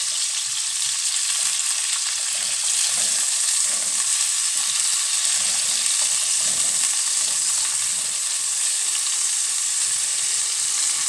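Chicken fries in a pan, a loud, continuous, close sizzle with a busy crackle that holds steady throughout, no voices over it.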